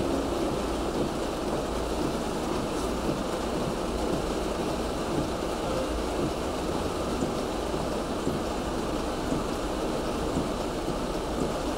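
Steady heavy rain falls without pause, a broad, even roar of water hitting the ground and roofs nearby.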